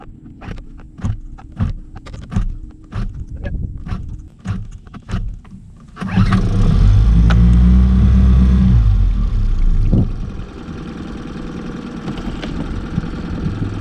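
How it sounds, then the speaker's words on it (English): A Mercury 9.9 outboard motor on a Lowe 1448 jon boat gives a series of sharp pull-start clicks. Then it catches with a loud burst and settles into a steady, rumbling idle close by. "All that's left to do that I know of right now is pull this and warm up the engine."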